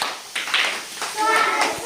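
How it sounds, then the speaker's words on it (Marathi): Schoolchildren in a fourth-grade class clap together to welcome a pair of classmates, Kartik and Manvi: a quick burst of many hands mixed with children's voices, loud and close, with a short lull between two rounds of applause. "ह्या जोडीसाठी जोरात टाळ्या पाहिजेत."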